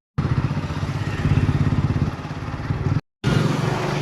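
A motor scooter or motorbike carries riders home, its engine droning steadily and close with a low pulsing rumble, briefly cutting out near the end before resuming.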